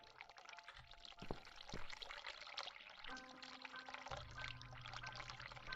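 Water runs and pours in The Cat Lady game, a quiet steady trickling and splashing flow with a couple of sharp clicks and a low hum joining partway through, no voices.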